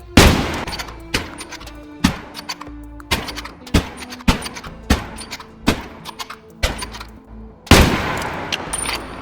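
In Exfil Zone, a rifle firing 7.62x54 HP rounds into armor gives about a dozen loud, separate shots at a steady, unhurried pace, each with a sharp crack and a short decaying tail.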